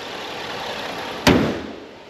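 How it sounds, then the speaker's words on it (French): The engine hood of a Jaguar F-Type S convertible slams shut in a single solid thud, loud and close, over a faint steady background hiss. "Donc nous allons fermer le compartiment moteur"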